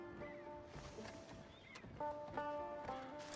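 Horse in Red Dead Redemption 2 during a horse-jacking ahead of a bridge robbery, with faint hoofbeats and a tonal whinny-like cry rising near the end over quiet game ambience.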